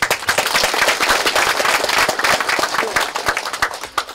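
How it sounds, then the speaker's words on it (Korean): Applause from attendees at a clan association's annual general meeting held at a head family's ancestral house, a steady wash of many hands clapping, fairly close and loud, tapering slightly toward the end. "박수를 부탁드립니다"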